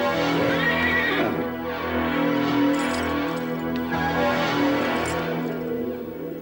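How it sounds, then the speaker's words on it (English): A horse whinnies loudly near the start, its call rising and falling, over a dense, steady background of ambient noise that continues throughout. "That's Tell's horse. Take it"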